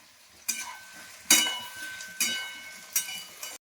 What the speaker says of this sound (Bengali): ক্যাপসিকাম দিলাম ক্যাপসিকামটাও একটু নাড়াচাড়া করলেই ভাজা হয়ে যায়